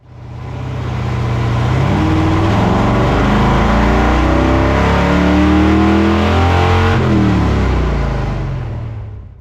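A 454 big-block V8 on a chassis dyno at a horsepower testing facility, revving loud and steady throughout with rising and falling engine tones, no talking.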